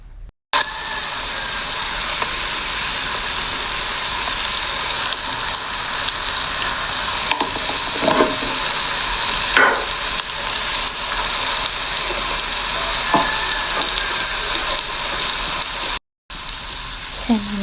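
Canned fish fries and sizzles steadily in a pan while being stirred, a continuous close hiss with occasional scraping strokes and no speech.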